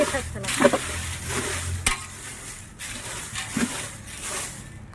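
Food roasts in a pan while a utensil stirs it, giving repeated scraping strokes over a soft, continuous sizzle close by, with no talking.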